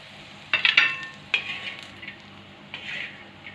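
Roasted grated coconut scraped off a hot tava into a dish, giving a few close metallic scrapes and clinks in quick bursts with quieter scraping between.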